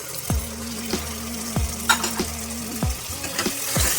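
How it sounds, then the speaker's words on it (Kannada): Yogurt is stirred into masala frying in a pan for egg biryani, with a steady sizzle under repeated spoon scrapes and knocks against the pan, about one every half second, close and alone. "ಈ ಥರ ಮೊಸರು ಹಾಕಿ ಚೆನ್ನಾಗಿ ಮಿಕ್ಸ್ ಮಾಡೋಣ"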